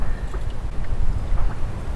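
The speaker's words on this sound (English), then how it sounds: "The exhaust is underwater." A lifted truck off-roading with its exhaust submerged, giving a steady low, churning rumble and bubbling under a layer of wind noise, with no voices.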